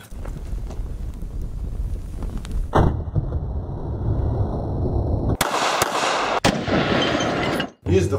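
A TV is destroyed with gunfire and fire, with loud sharp bursts and crackling impacts against a rushing windy roar, followed by abrupt cuts between noisy segments.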